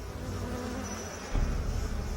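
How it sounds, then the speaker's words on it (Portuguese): Bees and wasps buzz in a steady, close drone with a faint high whine on top, thickening into a louder, rougher hum for the final second; no one speaks. "Abelhas, vespas e marimbondos assustam todos nós."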